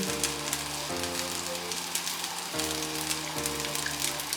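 Sliced white onion sizzles in a pan with garlic fried rice, a continuous crackling fry under background music, close and moderately loud.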